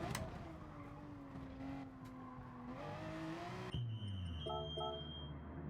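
A Toyota Supra Group 4 race car in Gran Turismo Sport drones at steady engine pitch, rising through the gears, then a sharp shift to a lower tone with brief tire squeal near the end, loud and with no talking.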